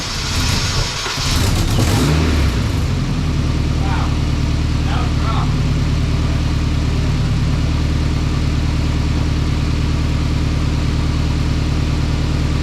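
A Nissan 240SX being readied for drifting cranks and fires up, then settles into a loud, steady idle with rhythmic engine pulses and light revving, close by, after brief clatter and a voice at the start.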